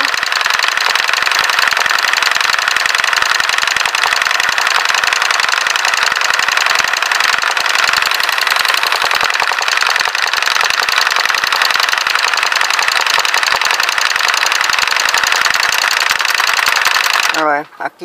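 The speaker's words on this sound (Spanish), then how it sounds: "Porque anda la máquina fallando, como que no quiere muy bien arrancar." An electric sewing machine for stitching simple flowers runs continuously at high speed with a dense, loud mechanical whir and chatter, faltering unevenly as it struggles, then abruptly stops at the end.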